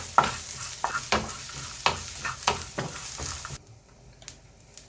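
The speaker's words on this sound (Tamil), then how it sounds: "கூடவே கொஞ்சம் சின்ன வெங்காயம் அப்புறமா சின்ன ஒரு பூண்டு அவ்வளோவும் போட்டு நல்லா வதக்கிக்க வேண்டியதுதான்" Shallots and garlic sauté in a pan for an inji theeyal, with a close, steady sizzle and repeated scraping stir strokes that stop just before the end, leaving only quieter frying.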